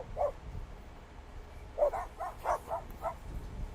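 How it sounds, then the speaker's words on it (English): Several big dogs in a red truck bark in short, muffled bursts, one isolated bark then a quick run of five or six, faint and somewhat distant. "here you got this lady with 5 big dogs in this red truck right here"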